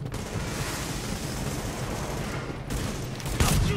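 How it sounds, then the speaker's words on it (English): Shotgun fire in the video game The Division, a loud blast near the end that stands out from dense, continuous gunfire and battle noise. "Shotgun time!"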